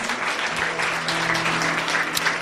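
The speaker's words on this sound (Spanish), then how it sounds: "Dale ese aplauso como Él se lo merece." A church congregation applauds after a sermon, dense continuous clapping from many hands at moderate volume with a faint low hum underneath and no talk.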